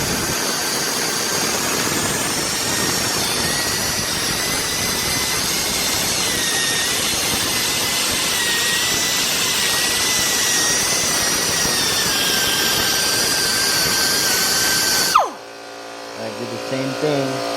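A power tool grinds and smooths an LS series engine block, an LM7 prepared as a forged 363 stroker, with a steady high whine that holds for about fifteen seconds before cutting off abruptly and winding down.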